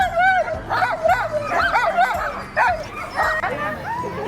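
Sled dogs at a musher's camp in Skagway, Alaska yip and bark excitedly in rapid overlapping calls with some whimpering, loud and close, while people talk underneath.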